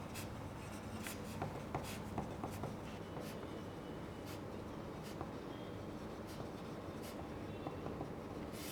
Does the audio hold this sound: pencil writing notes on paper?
yes